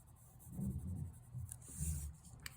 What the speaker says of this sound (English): I do want to make sure that I'm really polishing that wax material of the color pencil into the paper